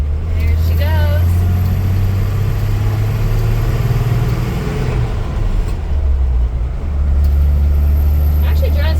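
A 1963 Ford F100 pickup truck drives down the road with a loud, steady low engine rumble throughout, while people talk over it.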